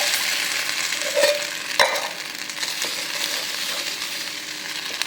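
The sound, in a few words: pouring tempering into Madurai thanni chutney and stirring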